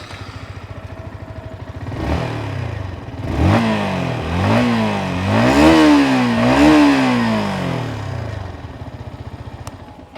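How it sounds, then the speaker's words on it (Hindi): A Yamaha XSR 155 motorcycle idles with a steady exhaust burble, then revs up in four successive throttle blips that rise and fall in pitch, close and loud, before dropping back to idle. "सबसे पहले इसकी जो एग्जॉस्ट साउंड है"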